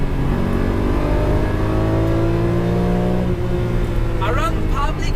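A Lamborghini Murcielago V12 engine roars continuously with rising harmonic tones as it is revved hard, dense and close.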